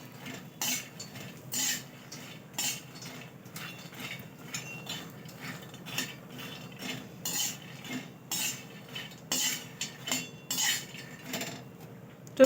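Makhana (fox nuts) roasting in ghee are stirred with a metal spoon, giving repeated quiet clinks and scrapes against the pan in an irregular rhythm over a faint low background, with no voices.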